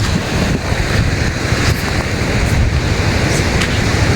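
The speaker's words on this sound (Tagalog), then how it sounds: "nakakatakot dito malakas yung ano malakas yung alon" Loud, continuous roar of surf mixed with heavy wind buffeting the microphone, steady and close with no pauses.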